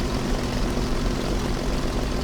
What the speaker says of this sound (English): I'm now flying one of the most produced airplanes of all time, the IL-2